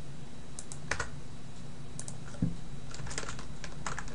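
A computer keyboard is typed on in short bursts of quick, light clicks, fairly close and quiet, with no voices.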